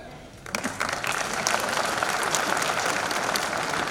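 A large audience at a speech breaks into sustained applause, a dense, even wash of clapping that rises quickly and holds for several seconds.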